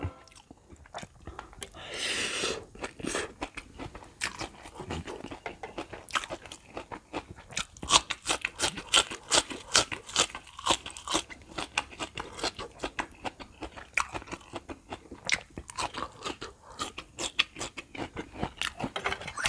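Someone eats spicy pad thai up close, with steady wet chewing, smacking and crunchy bites going on the whole time, loud and intimate, with no talking.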